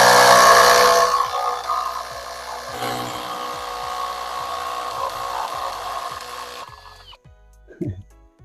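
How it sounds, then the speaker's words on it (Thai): A Chinese brushless cordless drill strains to unscrew a stuck screw, giving a loud burst of motor whine and then a steady whir with repeated ticking clutch clicks before it stops. "ผมจะใช้สว่านตัวของจีนนะครับขันออกมาดู"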